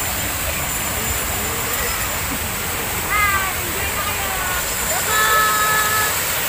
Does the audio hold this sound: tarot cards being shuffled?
no